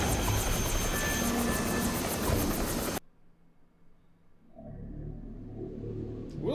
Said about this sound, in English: Not this helicopter